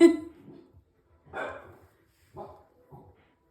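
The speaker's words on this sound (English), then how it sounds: "I foster dogs, so you may hear them bark a bit." A few scattered dog barks in the background, faint and spaced apart, from a distance indoors.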